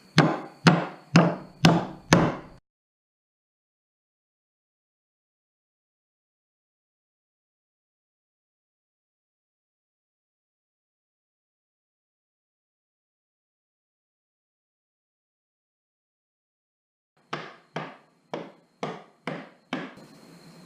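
Hammer blows driving a nail into a spalted pear wood blank, a quick burst of five sharp strikes, a long silence, then another run of six lighter, close taps.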